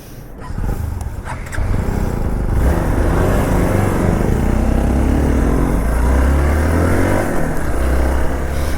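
A motorcycle ridden on a road between Delhi and Shimla, its engine droning loud and steady from start to finish with a few shifts in pitch, together with constant wind rush and no talking.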